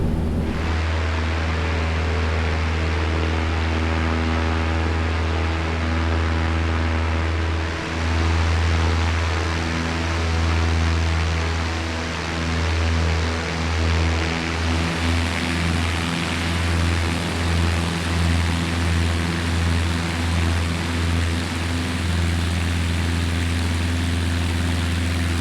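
A Cessna 172 engine from a flight simulator soundpack idles for a long stretch as a steady propeller drone with a low throb that pulses unevenly, heard alone with no voices.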